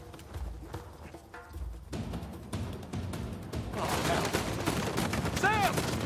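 Gunfire from a mounted turret crackles in a bursting fusillade during an Uncharted 4 action sequence, mixed with hoofbeat-like thuds and rising chaotic noise that grows denser and louder toward the end.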